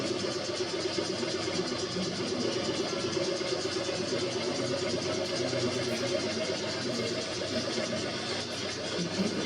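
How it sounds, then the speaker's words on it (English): A small engine-driven vehicle built with an engine and body mounted between two bicycle frames runs steadily nearby, its even mid-pitched motor hum droning on without pause. "It's an engine and a body mounted between the two bicycle frames."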